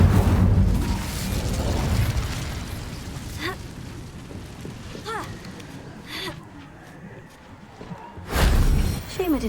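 A fiery Incendio spell blast in Hogwarts Legacy goes off in a dense, roaring burst, followed by scattered crackles and pops, then a second loud whoosh of flame near the end, all close and without talk.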